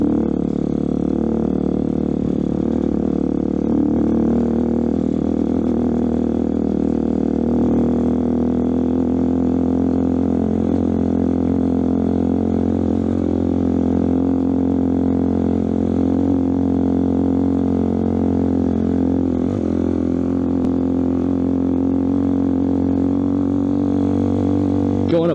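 A Honda Hawk 250 motorcycle pulls up a hill in low gear, its engine holding a steady, loud droning hum throughout with no clear pauses.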